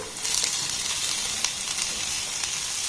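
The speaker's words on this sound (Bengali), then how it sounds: "এবার পেঁয়াজ আর লঙ্কাটাকে একটু হালকা লাল লাল করে ভেজে নেব" Sliced onion and green chili fry in a pan, giving a steady, moderate sizzle and hiss with occasional sharper crackles and stirring touches, with no talking.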